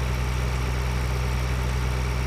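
Tractor engine in the video game Farming Simulator 2013, a loud, steady, low rumbling drone that holds constant without variation and with no talking over it.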